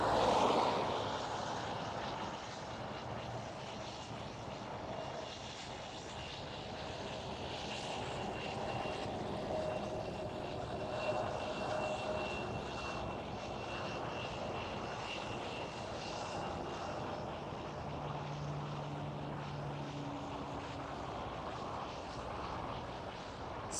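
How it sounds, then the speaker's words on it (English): A KLM City Hopper Embraer E175 jet taxis at Schiphol Amsterdam, a steady, nearby engine roar with a whining hum that holds fairly even throughout, with no talking. "this KLM City Hopper E175 is on the taxiway near us"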